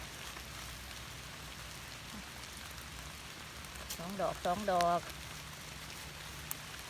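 Light rain falls steadily outdoors during mushroom gathering, a soft continuous patter throughout, with someone talking briefly near the middle.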